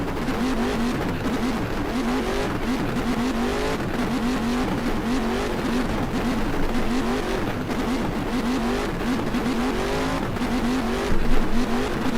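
A 1976 race car at Sebring in the GTR2 racing game, its engine droning loud and steady at high revs for the whole stretch, with brief rhythmic fluctuations near the end.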